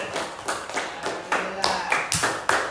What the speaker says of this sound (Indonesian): kasih tepuk tangannya yang meriah ya